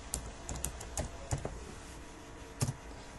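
A handful of sparse, separate key presses on a computer keyboard, close and fairly soft, spaced out over a few seconds against a faint steady background hum.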